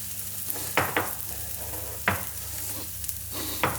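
Onions and cardamom fry in a pan on a hob, a steady close sizzle broken by several sharp stirring scrapes and clacks, with no talk.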